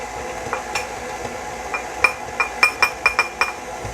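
Spices are stirred with a spoon in a glass bowl for a gingerbread bourbon cheesecake, giving soft scraping and a quick series of light clinks against the glass, close and fairly quiet.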